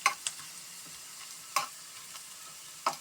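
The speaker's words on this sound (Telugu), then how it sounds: "పిండేసి ఈ విధంగా ఎర్రగడ్డేసేసి బాగా వేపుకుంటాము." Boiled nalleru (veldt grape) squeezed dry and fried with onions in a pan gives a quiet, steady sizzle, broken by a few sharp scraping stirs, close-up and without voices.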